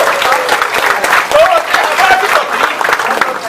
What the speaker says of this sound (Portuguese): Salva de palmas para quem está indo embora